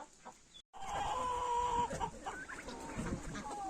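Chickens cluck and chatter nearby, with soft bird calls and rustling over a low background hum.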